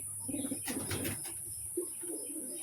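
Pigeons coo nearby in a few soft, low, throaty bursts, with short pauses between the calls.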